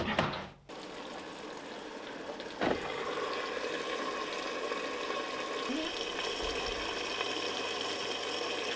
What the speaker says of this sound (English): Water is coming in a little bit.